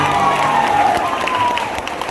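A crowd at a jatra folk theatre performance claps loudly and steadily in a dense wash of applause that lasts throughout.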